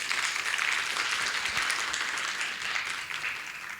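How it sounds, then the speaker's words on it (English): Audience at a women's leadership symposium applauding, a dense steady wash of many hands clapping that fades slightly toward the end. "Everyone give her a round of applause."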